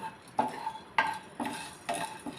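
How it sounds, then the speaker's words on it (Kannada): Spatula strikes and scrapes in a pan as mutton chops are dry-fried, four spaced metallic knocks with soft frying noise between, close and fairly quiet, no talking. "ಒಂದು ನಿಮಿಷ ನಾನು ಫ್ರೈ ಮಾಡ್ಕೊತಾ ಇದ್ದೀನಿ"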